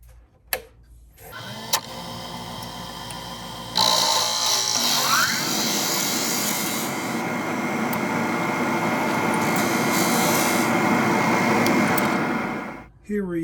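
A drill bit cuts into bocote wood for a fountain pen body, a loud continuous whirring grind close by that starts abruptly and runs steadily for about ten seconds before winding down.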